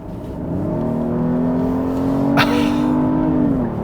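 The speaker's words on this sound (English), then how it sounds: "Let's put the car into sports mode and let you hear the engine." A 2021 Genesis GV80's 3.5-liter twin-turbo engine revs up close by in sport mode at night, rising in pitch and then holding a strong, steady roar as it accelerates.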